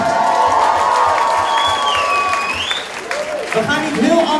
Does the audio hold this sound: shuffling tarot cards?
no